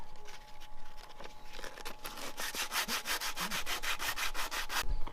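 Body filler is sanded by hand on the bodywork of a BMW 325 TDS, making rhythmic rasping strokes that quicken and grow louder, close and steady, with no talk.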